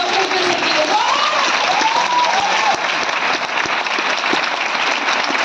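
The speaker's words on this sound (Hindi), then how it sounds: "मैं चाहूंगी मेरे गुरु के लिए एक बार जोरदार ताली होनी चाहिए" Loud, dense audience applause at a stage program fills the whole clip steadily, with a voice briefly calling out over the clapping.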